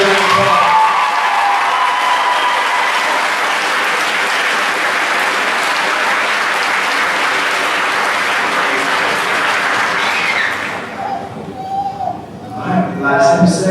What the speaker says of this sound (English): Mr. Lyons and Mrs. Hogan, please give them a big round of applause.